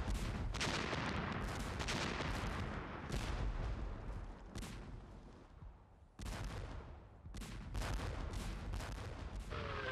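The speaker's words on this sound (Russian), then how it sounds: "Британская артиллерия осыпала немецкие позиции градом снарядов от 18-фунтовой шрапнели до массивных 1400-фунтовых зарядов 15-дюймовых" British artillery shells German positions in 1916, from 18-pounder shrapnel guns to heavy 15-inch howitzers: a steady barrage of loud booming blasts and rumbling detonations, one after another with brief lulls, no voices.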